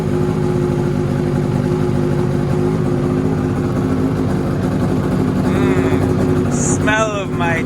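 A small two-stroke engine runs steadily just after starting, a loud, close buzzing drone that holds even, with a voice speaking over it near the end.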